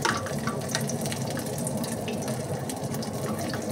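Liquid pours steadily into chicken Alfredo pasta in a continuous, close splashing stream with no pauses.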